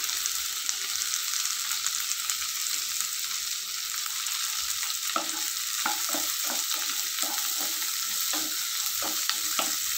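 Green chillies and dried red chillies sauté in a hot pan with a constant soft sizzle. In the second half, a string of spatula scrapes and stirring clicks comes through.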